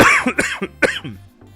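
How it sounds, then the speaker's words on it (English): A quick cluster of close, dry coughs from a streamer at the Offkai Expo VTuber convention, several sharp bursts in a row that trail off into a faint final one. "oh no, excuse me, there's the cough"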